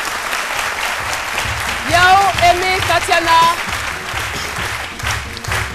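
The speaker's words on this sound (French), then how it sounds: "On l'applaudit très fort." A television studio audience applauds a guest, a trader joining the set, with sustained loud clapping while a presenter speaks over it and a brief tonal musical phrase rises midway.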